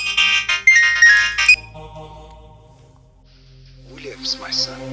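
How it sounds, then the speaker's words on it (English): A mobile phone ringtone plays a bright, repeating electronic melody for about a second and a half, loud and close, then stops; a voice speaks faintly later in the clip. "Your phone is ringing."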